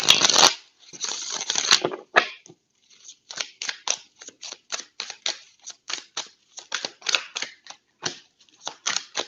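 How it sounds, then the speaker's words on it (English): A deck of tarot cards being shuffled close up: an initial riffle and ruffle, then a long run of crisp, evenly spaced card snaps and taps in a steady rhythm, with no talk. "Let me reshuffle. They're messy. Messy, messy cards."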